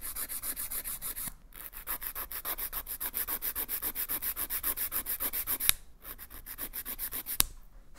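A coarse-grit nail file shapes a nail in quick, rhythmic back-and-forth strokes, close and scratchy, with two brief pauses between runs of filing.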